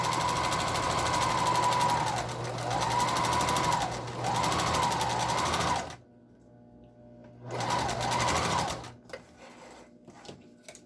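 A sewing machine stitches a fabric liner onto an N95-style face mask in two close, steady whirring runs of about six seconds and one and a half seconds, separated by a pause, with faint handling noise at the end.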